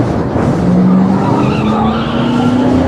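Rallycross car skidding hard on a British race track, tires squealing in a long rising screech over a steady engine roar, loud and close throughout.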